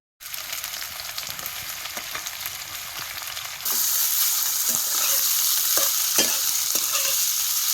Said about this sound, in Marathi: आता याच्यात लांबडा चिरलेला कांदा घालतो.